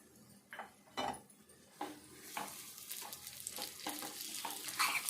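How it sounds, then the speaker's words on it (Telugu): Fried cashews and almonds being stirred into a thick sweet mixture in a pan, with a steady close sizzle and repeated scraping spoon strokes, several sharper clinks against the pan, no voices. "అంతా ఒకసారి అయితే కలిసేటట్టు కలుపుకోవాలి. ఇట్లా కలుపుకోవాలి."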